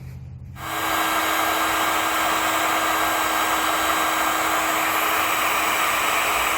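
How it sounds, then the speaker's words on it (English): A heat gun shrinks heat shrink tubing during a battery disconnect installation on a 2017 GMC Canyon. It kicks on after a brief pause, then blows a loud, steady, airy hiss that holds evenly to the end, with no talking. "We'll slide that heat shrink over, grab our heat gun and shrink it down."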